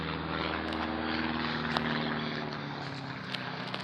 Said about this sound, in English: as an airplane is flying above.